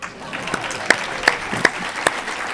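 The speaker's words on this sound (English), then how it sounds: "Everybody else clap for them." Rotary Club members at a weekly meeting clap for those who sold tickets, a short burst of dense applause with a few sharp, louder claps standing out.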